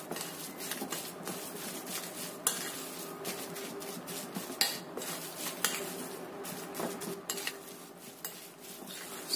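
A chicken and vegetable mixture with sesame oil being stirred in a pan: repeated close clinks and scrapes of a utensil against the cookware over a faint sizzle, with no voices.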